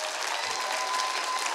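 A church congregation clapping together, a brief, dense burst of hand claps filling the room, loud and steady with no voices.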